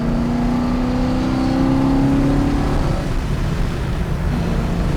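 A 1971 Chevrolet El Camino with a Texas Speed-built engine revs and pulls hard under acceleration, its exhaust note climbing steadily, loud and close from inside the moving car, with no talk.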